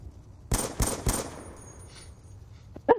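Three sharp gunshots from a video game weapon fire in quick succession, loud and close, followed by quieter background game sounds and one more brief burst near the end.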